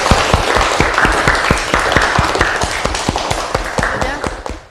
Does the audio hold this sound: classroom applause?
yes